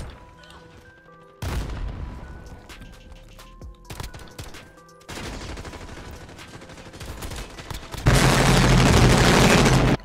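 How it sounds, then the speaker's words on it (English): LMG machine gun fire in the video game Modern Warfare: bursts of rapid automatic gunfire crackle in several loud waves, with sharp single reports and booms between them, the last burst the densest and loudest. "They're all just laying in with LMGs."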